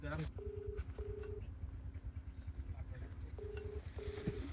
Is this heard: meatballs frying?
no